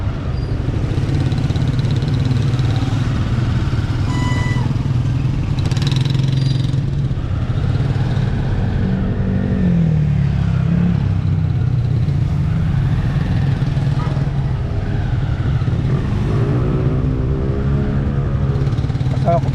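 Road traffic in Alaminos, with motorcycles and cars including a Honda Supremo, gives a steady close engine drone of idling and slowly moving vehicles, with occasional louder passes, throughout the clip.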